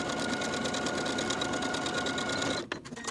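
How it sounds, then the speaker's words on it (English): Domestic sewing machine stitching slanted pocket seams on culotte pants, a steady rapid stitching chatter running continuously before stopping abruptly near the end, followed by a few faint handling clicks. "Then I'll sew these slanted seams with a 5/8 inch seam allowance."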